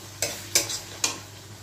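Spice masala being sautéed in a pan for an egg curry, three quick scraping stirs of a spoon over a soft background sizzle.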